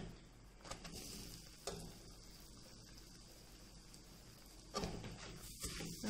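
Freshly grated coconut and rasam powder being stirred into other ingredients for gojju avalakki, a steady scraping stir with a few louder knocks, close by and alone.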